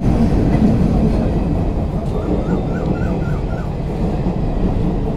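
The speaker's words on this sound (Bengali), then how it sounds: "যখনই আমি আসবো রেলগেট দিয়ে তখনই ট্রেন আসবে।" A train rumbles past at a railway level crossing, a loud continuous low roar of rolling wagons held close for several seconds, with faint rhythmic clatter and a brief high squeal midway.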